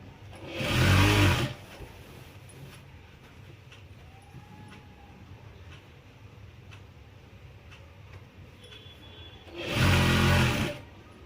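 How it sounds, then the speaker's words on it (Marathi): A sewing machine stitches a skirt cut from an old bordered saree, sounding as two short, loud mechanical bursts of rapid stitching, one at the start and one at the end, with a quiet pause between. "अर्धा इंच सोडून शिलाई मारायची"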